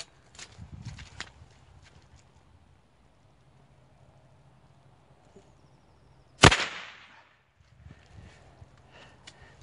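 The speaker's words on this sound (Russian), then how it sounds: "Сейчас будет выстрел патрона блик." A Hatsan Striker Edge air rifle fires a single sharp, loud shot, a sudden crack with a short ringing tail that stands out against quiet surroundings and faint handling noises.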